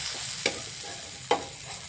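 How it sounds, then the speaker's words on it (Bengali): Palm fritters (taler bora) frying in hot oil, with two distinct scraping clicks as a spatula flips them, over a steady soft sizzle; no talking. "দেখুন বন্ধুরা এগুলোকে খুন্তির সাহায্যে সুন্দর করে উল্টে দিচ্ছি"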